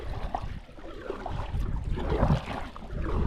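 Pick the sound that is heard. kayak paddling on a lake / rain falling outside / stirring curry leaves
kayak paddling on a lake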